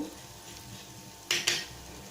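Tomatoes sauté in a pan with chili powder and coriander powder for chicken dum biryani: a low, steady sizzle, then two short, louder scraping bursts of stirring close by.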